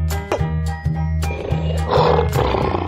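A lion gives a deep, loud roar that swells toward the end, sounding close and alone over a low rhythmic backing.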